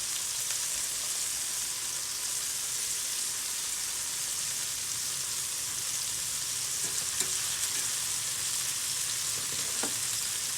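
Bay scallops sear in a hot pan with a steady, close broadband sizzle and crackle throughout, a few faint clinks near the end, with no talking.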